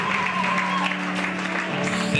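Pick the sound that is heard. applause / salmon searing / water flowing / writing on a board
applause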